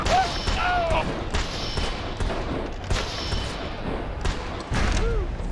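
Gunfire from the Western video game GUN, a few sharp shots scattered through a busy, noisy game soundscape with vocal sounds, no loud sustained barrage.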